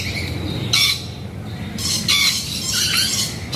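A noisy bird at Surabaya Zoo lets out loud, harsh squawks in three separate bursts, close by, with quieter background noise between the calls.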